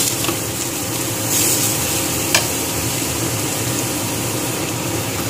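Ground spice masala of bay leaf, ajwain and red chili fries in a pan with a steady, even sizzle, broken by a brief clink partway through.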